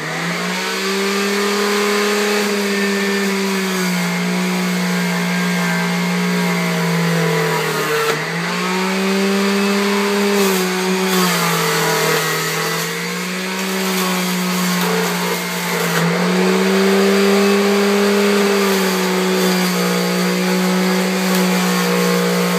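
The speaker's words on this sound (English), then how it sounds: "I'm borrowing my mom's juice maker, so it might get a little loud" A juice maker grinding cucumber and greens runs as a loud, steady motor whine for over twenty seconds, dipping in pitch briefly as produce is pushed through, with no voices.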